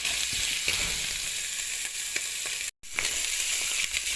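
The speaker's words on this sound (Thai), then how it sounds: "ขัวหมู" Pork frying in hot oil in a pan, a steady close sizzle and crackle with a brief dropout partway through and no voices.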